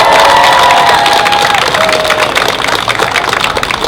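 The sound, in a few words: rally crowd applause and cheering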